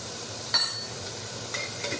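Garlic sautéing in a pan for a chicken and vegetable soup: a steady soft sizzle close up, with a couple of brief scraping stirs of a utensil against the pan.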